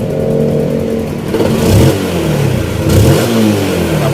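A Yamaha Spark 135i motorcycle on its stock exhaust idles steadily, then gets two sharp throttle blips that rise and fall before settling back to a smooth idle, close and clear.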